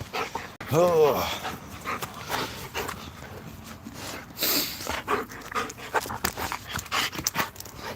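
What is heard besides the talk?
dog whimpering and panting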